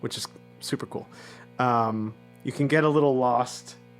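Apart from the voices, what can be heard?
No distinct noise like a dog, phone or traffic.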